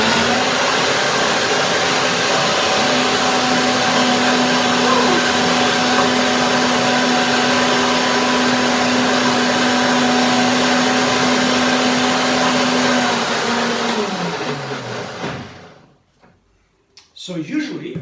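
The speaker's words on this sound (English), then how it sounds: "Blender dance again." A kitchen blender runs at a steady, loud whine while blending peach pie filling, holding one even pitch for about thirteen seconds before winding down and stopping, followed by a short clatter.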